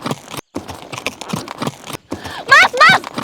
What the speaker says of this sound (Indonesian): naik kuda ngamuk kayak gitu